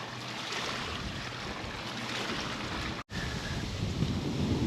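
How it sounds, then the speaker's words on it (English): Wind-driven waves on a large lake slap and wash steadily beside a canoe pinned against the shore, with microphone wind rumble and one brief dropout near the end; no talking. "Look at these waves."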